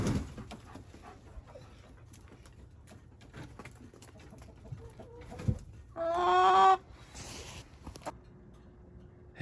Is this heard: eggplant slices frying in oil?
no